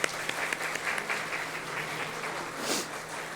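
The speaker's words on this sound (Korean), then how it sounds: "한번 자리에서 일어나면 박수로 한번 환영하겠습니다" A church congregation claps warmly at a Sunday service to welcome a returning member, a soft, fairly distant applause that swells briefly and then holds steady for a few seconds.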